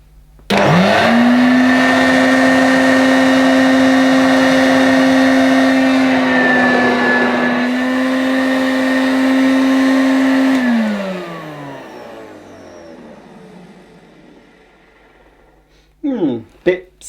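A Hoover Junior U1104 upright vacuum cleaner switches on and runs with a steady, loud motor whine and rumble, holds for several seconds, then spins down and fades out. A few knocks follow at the end.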